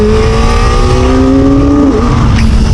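A Kawasaki ZX-4RR motorcycle engine revving high, with a loud, sustained whine whose pitch climbs steadily and then drops back near the end. Heavy wind rumble sits underneath, as if heard while riding.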